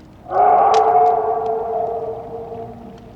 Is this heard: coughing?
no